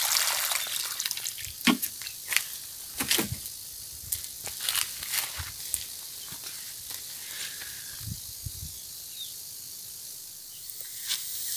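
Water poured from a watering can over newly planted jabuticaba seedlings in already damp soil, heard as quiet irregular splashes and trickles with a few sharper spatters against a faint outdoor background.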